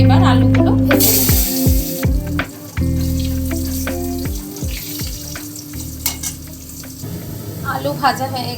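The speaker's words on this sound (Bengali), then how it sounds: "এবার আলুগুলো ভেজে নেব।" Potatoes fry in oil tempered with nigella seeds for a fish, eggplant and potato curry, a steady loud sizzle with clattering stirring strokes and scraping, and voices heard over it near the end.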